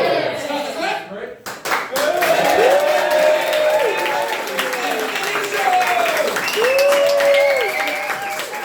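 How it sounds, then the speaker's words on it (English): A comedy club crowd claps and cheers to welcome comedian Eni Oshowo onto the stage, sustained applause with voices and a sung or shouted tone riding over the clapping throughout. "Total clap, everybody else will join in."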